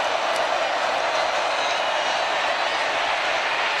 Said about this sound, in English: The crowd has come alive looking for a stop.